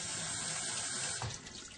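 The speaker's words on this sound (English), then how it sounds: "you can just rinse them slightly again or not." Running tap water rinsing sprouts in an EasySprout sprouter, a steady close hiss and splash of flowing water with a brief clunk near the end.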